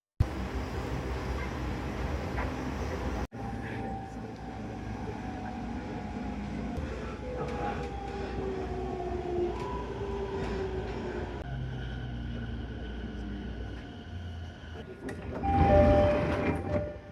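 A Japanese commuter train rumbles steadily from inside a carriage near Kamatori Station, Chiba, with rising and falling motor whines, a chime, and a louder rush of movement near the end.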